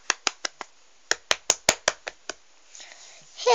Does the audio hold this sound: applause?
yes